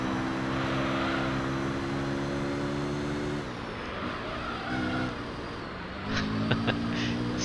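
Racing car engine in the Gran Turismo 3 video game, a steady harmonic drone that drops in pitch as the car shifts, then climbs again with faint tyre-squeal-like tones near the end, loud and continuous with no talk.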